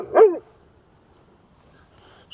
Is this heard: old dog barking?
yes